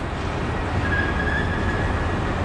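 A train to Berlin departing a large, busy station, heard as a loud, continuous rolling rumble with a faint high wheel squeal drawn out through the middle.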